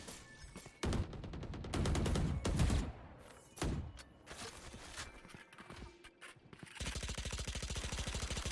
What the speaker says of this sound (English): They're still pelting bullets into that wall.